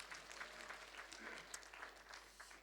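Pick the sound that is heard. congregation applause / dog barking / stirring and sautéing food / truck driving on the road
congregation applause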